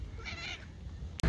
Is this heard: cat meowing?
yes